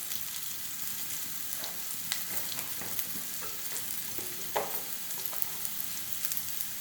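Bitter gourd sautés in a pan as it shrinks down, giving a soft, even sizzle with scattered light clicks and scrapes of stirring, fairly quiet and close, without talking.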